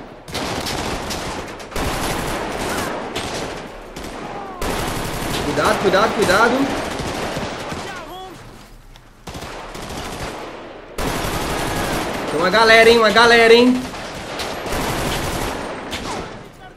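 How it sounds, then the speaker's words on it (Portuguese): Bursts of rapid gunfire in GTA crackle through most of the stretch, with men calling out urgently in Portuguese over the shooting during an army operation. "Vamos trocar tiro com os vagabundos primeiro."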